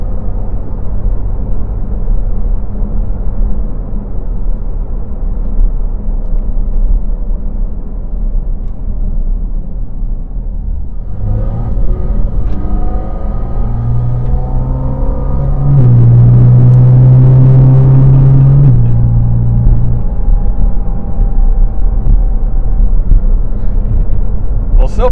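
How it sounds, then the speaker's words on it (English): Inside a 2023 Porsche 718 Cayman GT4 RS on the move, the engine and intake drone loudly and constantly, with the pitch sweeping upward as revs climb partway through, then holding a strong, steady tone. "So far, the intake sound is making me grin. It's very present."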